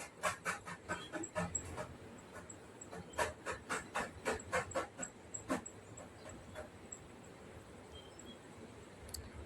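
Potatoes sizzle in hot oil in a home kitchen pan, a close, steady hiss broken by bursts of sharp crackling and popping that grow busier, then settle back into a softer fry.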